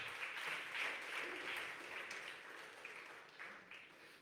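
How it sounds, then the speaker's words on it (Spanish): A church congregation claps together in a soft, steady patter that holds for several seconds and gradually thins toward the end, heard at a distance. "Denle una ofrenda de palmas a Él"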